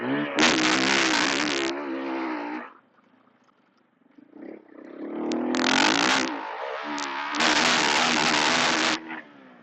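A 2026 Husqvarna FE501 dirt bike engine revs hard in loud, rising bursts, with a short drop to a low idle in between before it climbs again to high, sustained revs close by.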